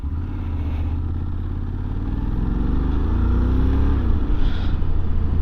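A Honda X-ADV automatic scooter pulls away from a standstill, its engine rising from a steady idle into a smooth climbing drone, loud and close throughout with no speech.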